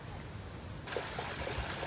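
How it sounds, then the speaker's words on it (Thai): Water flowing in a stream at Blausee, Switzerland, a continuous soft rushing that grows a little fuller partway through, heard fairly close with no other sounds. "อันนี้ก็เป็นน้ำที่ไหลมาจากฝั่งนู้นที่เราไปดูลำธารตรงนั้นมาค่ะ"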